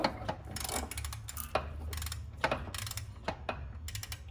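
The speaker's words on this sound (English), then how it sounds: "We have our 19 millimeter with the 1/2-inch drive ratchet that came with the kit. And we are going to turn it." A 1/2-inch drive ratchet with a 19 mm socket turns the crankshaft bolt of a 2010-2015 Prius engine, giving a series of close, crisp ratcheting clicks in bursts, with no voices.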